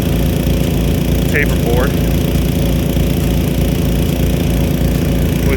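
Pumps drive a Nelson PC-NV100 2-inch fast-reverse big gun sprinkler with a .70 taper bore nozzle, giving a loud, steady engine-like drone with a rapid pulsing throb throughout, while a person talks over it.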